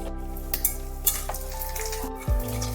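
Panch phoron spices sizzle in hot oil in a pan, a steady loud crackle punctuated by a few sharp metallic clinks of a utensil and a brief scraping sweep near the end.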